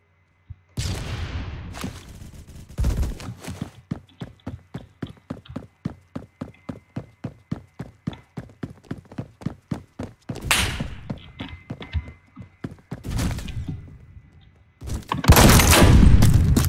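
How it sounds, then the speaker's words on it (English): Gunfire from a DFG-50 rifle in the video game Phantom Forces, a long run of rapid, evenly spaced loud shots with a few heavier blasts and a dense noisy burst near the end. "I get killed by someone that's firing a weapon that sounds like the DFG-50"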